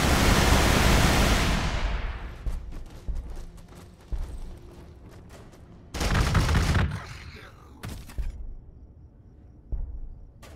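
Gunfire from the strategy video game Warhammer 40k Gladius bursts in loud noisy blasts, a long roaring volley at the start and then shorter shots, with game effects between them.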